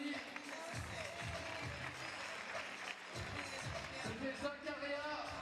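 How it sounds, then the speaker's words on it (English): Audience applause at a FIBA 3x3 basketball World Tour event in Lausanne, a steady patter of clapping from the crowd under an announcer's talk. "Allez, on applaudit."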